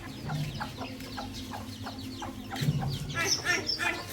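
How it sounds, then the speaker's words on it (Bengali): Chickens cluck in a rural Bangladeshi village yard, with several short calls repeating through the clip at moderate distance, growing louder and busier near the end amid steady background noise. "ওই যে দেখেন মুরগি"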